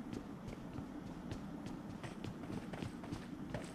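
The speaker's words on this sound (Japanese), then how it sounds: "こっちの方から足音しますね。" Footsteps in the battle royale game PUBG, a steady run of soft thuds at a moderate distance over a low rumble of background noise, with no talk.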